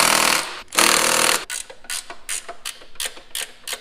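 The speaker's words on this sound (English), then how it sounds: "I only got my impact set to 2, that's only like 40 foot-pounds." A pneumatic-style impact wrench set low, around 40 foot-pounds on an extension, loosening engine bolts on a rebuilt forged twin-turbo 6G72 in a 3000GT VR4; two long loud hammering bursts, then a string of short rattling bursts.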